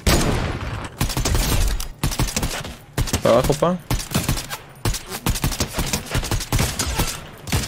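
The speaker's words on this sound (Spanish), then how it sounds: "Escuché disparos. En efecto, están peleando acá." Rapid bursts of Fortnite gunfire crackle in quick volleys, with a voice speaking briefly between the shots.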